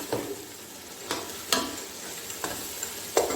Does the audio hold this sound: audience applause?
no